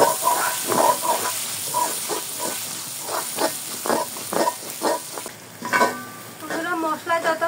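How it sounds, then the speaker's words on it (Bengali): Ground cumin paste with cinnamon, cardamom and clove paste being sautéed in a pan for a chicken curry, a constant soft sizzling hiss beneath an ongoing voice. "দারচিনি এলাচ লবঙ্গ একসাথে বাটা, এগুলো দিয়ে দিব। ভালো করে কষিয়ে নিব।"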